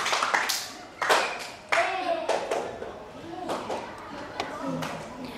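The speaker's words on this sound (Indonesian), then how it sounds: "Tepuk tangan untuk Evan." Bursts of hand clapping from a classroom group, uneven and lively, with children's voices chattering in between.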